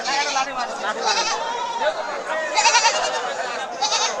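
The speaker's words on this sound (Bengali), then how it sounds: "পশ্চিম পাশেও ছাগল আছে এই দেখেন কি সুন্দর সুন্দর ছাগল" Several goats bleat repeatedly at a busy goat market, overlapping calls coming close together and loud, with people talking underneath.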